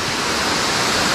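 Wardo waterfall in Papua, a steady, loud roar of falling water, broadband and unbroken throughout with no voices.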